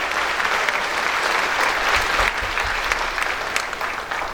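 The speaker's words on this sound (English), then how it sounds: "Give yourselves a nice round of applause for being able to pull this off." Audience at a reunion breaks into steady, loud applause, a dense wash of many hands clapping that continues evenly throughout with no speech over it.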